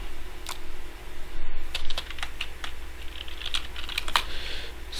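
Typing on a computer keyboard, a close, uneven patter of key clicks with brief pauses over a steady low hum, no voices.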